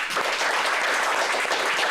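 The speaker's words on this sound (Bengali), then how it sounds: "আর একটা তালি হবে রাকিবের জন্য।" An audience claps together for a young mobile repair technician, a dense, even wash of applause that stays loud and steady throughout with no talk over it.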